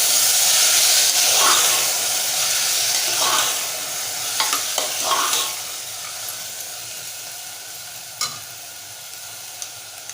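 Potatoes and sprouted white vatana stirred in a pan in Malvani style, a steady sizzling hiss with several scraping spoon strokes against the pan, close and moderately loud, no talking.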